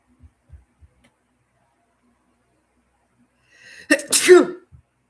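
A single close, loud human sneeze bursts out after several seconds of near silence broken only by a few soft taps.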